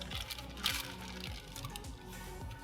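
Liquid poured from a bottle for anodizing titanium, a faint continuous trickling stream with small drips, close and steady but low in level.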